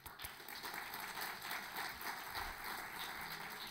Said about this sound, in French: je vous invite à accueillir chaleureusement pour qu'il puisse nous entendre avec des applaudissements